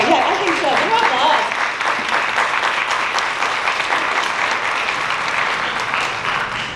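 Sustained audience applause at a campus Carnaval dinner, dense steady clapping from a crowd that slowly tapers, with brief voices audible at the start.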